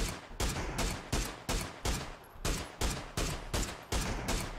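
A FAMAS rifle fired in PUBG, with loud close shots in an even, rapid series of single cracks at about two per second, each with a short echoing tail over steady game ambience.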